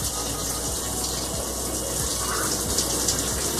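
Water runs steadily from a shower while a sponge is rinsed under it, a continuous close hiss with small splashing variations and no speech.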